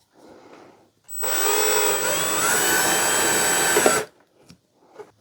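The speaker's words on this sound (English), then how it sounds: "And then I'm just going to drill a hole." A power drill whirs loudly for about three seconds, drilling a hole for a clock mechanism, with brief quiet handling noises before and after.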